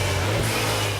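BMW Z4 roadster with a 2-litre turbocharged four-cylinder engine, a steady close engine drone with a low hum held for about a second, loud and without speech.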